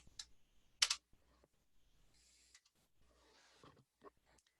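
Sparse keystrokes on a computer keyboard while a number is entered, heard as a few soft, close clicks and one sharper tap with quiet gaps between them.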